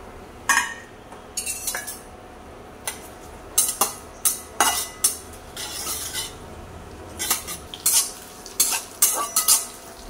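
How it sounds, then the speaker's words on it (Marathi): Whole garam masala spices, including coriander seeds, bay leaf, stone flower and cloves, roasting in hot oil in a pan: a soft sizzle under repeated scraping and clinking of a spoon stirring against metal in irregular bursts. "तेल आपलं गरम झाले आणि पहिल्यांदा गरम मसाले भाजून घेऊया"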